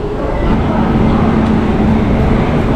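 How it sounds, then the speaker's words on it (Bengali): Passenger train pulling into Liluah station, a loud, steady low rumble and roar of the moving carriages, with a faint hum running through it and no clear speech. "এগারোটার সময় আমাদের ট্রেনটা লিলুয়াতে প্রবেশ করছে"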